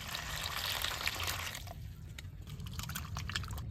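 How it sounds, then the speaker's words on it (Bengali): Raw papaya pieces are washed and squeezed by hand in water, a steady close splashing and trickling of liquid that runs without pause and thins toward the end. "জল দিয়ে সুন্দর কচলাই কচলে দিয়ে নেব।"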